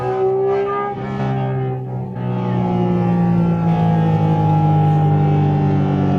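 Porsche Cayman GT4 RS engine revving at 8,000 rpm, a loud, close, sustained high-pitched howl with strong harmonics, dipping briefly then holding steady and gradually sliding in pitch.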